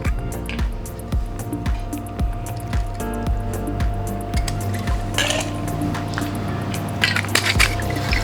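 Dark rum is poured into a measure for a spiced Mai Tai, giving a soft liquid trickle with light clinks of bar glass and metal, close by, over steady background music.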